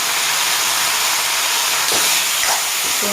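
Steady, loud hiss of dal frying in a pan, with a brief scrape or stir partway through. No voice is heard.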